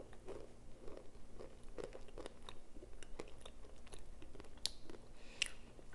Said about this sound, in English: So the Argo cornstarch brick is crunchy and squeaky.